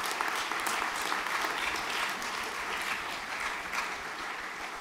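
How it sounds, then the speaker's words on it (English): At a junior graduation ceremony, the audience claps for award-winning boys: continuous, dense applause from a sizeable crowd, steady and fairly loud throughout with no talking over it. "Nicholas, we'll applaud these boys"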